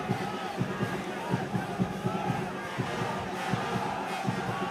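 A rugby match crowd of spectators, marching onto the field, makes a dense, steady roar of massed voices with rhythmic pulses like chanting or stamping.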